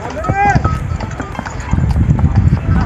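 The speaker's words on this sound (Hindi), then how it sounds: "मैं जा रहा हूँ घोड़े पे" Horse hooves clip-clop steadily as a rider travels uphill on a hiking trail to Ratti Gali Lake in the Neelum Valley, with someone talking over the rhythmic footfalls.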